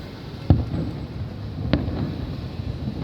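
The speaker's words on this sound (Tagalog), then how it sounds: "meron tayong pa-fireworks dito sa bintana" Fireworks thump twice at a distance over Dadaocheng Wharf in Taipei's Datong District, with dull booms under a steady rumble of wind and outdoor background noise.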